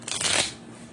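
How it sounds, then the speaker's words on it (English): A deck of tarot cards riffles in one quick, close shuffle, a brief papery flutter that fades within a second. "Let me shuffle one more time."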